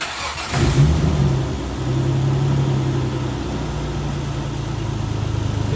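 A 2002 Isuzu Trooper LS with the 6VE1 V6 and a stalling problem cranks and fires up, then settles into a steady, loud, close idle hum that holds for several seconds.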